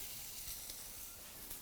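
Chicken and vegetable kebabs sizzle steadily on a hot grill, a faint, even hiss with small pops throughout and no voices.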